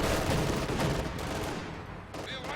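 MG42 machine gun fire in a Company of Heroes 2 battle, a loud, sustained burst of rapid gunfire mixed with other combat noise, fading slightly toward the end with no voices.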